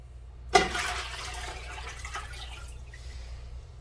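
Filtered water is poured into a container that already holds vinegar for pickle brine. It starts with an abrupt splash, runs as a steady stream for about two seconds, then fades to quiet.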